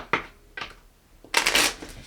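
A deck of playing cards that includes two jokers is shuffled close by. Two short riffling bursts are followed by a longer, louder riffle near the end, with nothing else heard.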